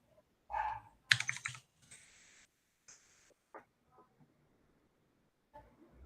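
Typing on a computer keyboard with a problematic enter key, several short bursts of clicks and taps separated by gaps, close and fairly quiet, with no talking.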